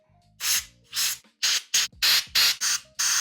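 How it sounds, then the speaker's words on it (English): Compressed air and brake cleaner blasted at the threads of a Harley-Davidson CV carburetor, heard as eight loud, close hissing bursts of varying length separated by short pauses. "we're going to clean that out with some air, brake clean"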